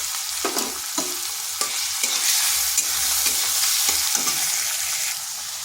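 Onion, tomato and salt frying in a pan while being stirred: a steady hiss of sizzling oil broken by repeated scraping strokes of a spoon, close and fairly loud with no voices.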